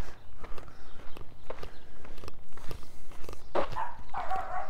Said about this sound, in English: A little bit of barking going on in the backyard